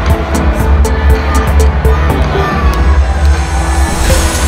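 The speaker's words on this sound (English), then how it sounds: "You can see the amazing crowd right here." A live WWE RAW crowd in a Florida arena cheers loudly and continuously, with scattered whoops and sharp bangs cutting through the dense roar.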